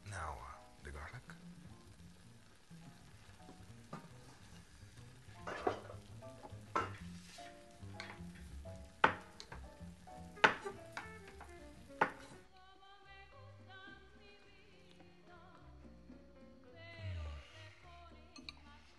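Garlic fries and is stirred in a pan on a stove, soft sizzling with clinking spoon strokes against the pan under background music and a few low voices.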